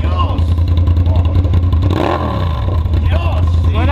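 A Suzuki SV 650 S motorcycle with a newly fitted exhaust runs loud and close, its engine rumbling and briefly revving in the middle while people talk over it.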